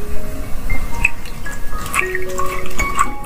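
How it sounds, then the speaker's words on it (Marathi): Cut bamboo pieces being washed by hand in warm water in a kitchen; close, irregular sloshing and dripping with small splashes and squishy handling sounds, no voices. "कोमट पाण्यामध्ये आम्ही धुतोय।"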